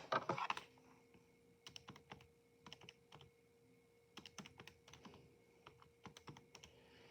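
Keys clacking on a computer keyboard in short irregular bursts of rapid strokes with brief pauses between, close and fairly quiet, with no talking.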